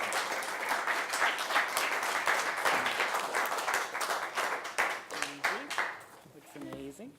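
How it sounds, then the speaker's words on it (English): Audience applause at a high school poetry reading, dense steady clapping from a crowd that thins into scattered claps, with a voice speaking briefly near the end. "Let's give a warm round of applause from the Xavier School."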